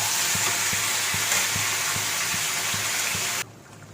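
Marinated chicken coated in chili powder sizzles loudly and steadily in a hot pan with faint regular ticks, then the frying cuts off abruptly near the end.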